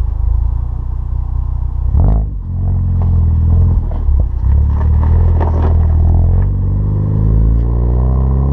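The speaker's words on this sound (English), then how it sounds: "The Magnaflow exhaust on, which you guys have been hearing on some short clips right now" A car fitted with a Magnaflow exhaust idles with a deep, loud rumble, then blips the throttle in several sharp revs that rise and drop back, close to the tailpipe.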